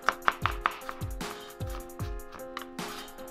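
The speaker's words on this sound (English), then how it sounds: "We're gonna slice that up, chop the slices into threads, and then mince the threads up." Knife chopping and mincing ginger on a cutting board, a run of sharp, evenly spaced taps and thuds close by, fairly loud, with steady background music throughout.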